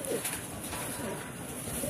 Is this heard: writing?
no